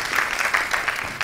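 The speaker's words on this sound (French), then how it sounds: "On l'applaudit s'il vous plaît." Audience applause at a youth human-rights debate final in Guinea, a dense, steady patter of many hands lasting about a second, with no talk over it.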